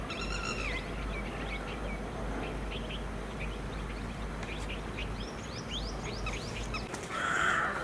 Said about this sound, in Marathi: आवाज फक्त पक्ष्यांचे